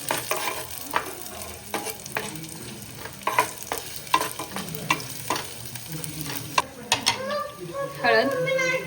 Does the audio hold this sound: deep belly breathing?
no